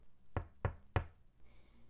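Three sharp, evenly spaced knocks on a door, close and distinct, with nothing else around them.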